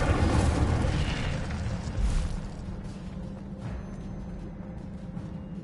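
An Incendio fire spell cast in the Hogwarts Legacy video game on PS5, a whooshing fiery burst that flares up and then subsides into a lower crackling rumble, with no talk.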